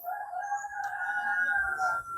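A rooster crows on a farm with green surroundings, a long sustained cock-a-doodle-doo ringing clearly and fairly close across the whole stretch, with faint bird calls in the background.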